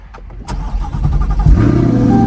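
A hurricane flood-damaged car's engine cranks briefly with a few chugging turns, then catches and settles into a loud, close, steady idle, with no talking.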